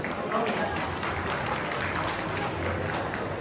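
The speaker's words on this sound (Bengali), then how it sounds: "একটা হাততালি হোক।" An audience at a community family night event claps steadily in dense, continuous applause that fills the whole stretch, with voices mixed in beneath it.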